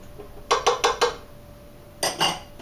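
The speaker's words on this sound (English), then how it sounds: "make sure that you mix it and beat it well" Muffin batter for cranberry muffins is beaten in a bowl, a utensil clacking against the sides in a quick burst of four strokes, a pause, then two more.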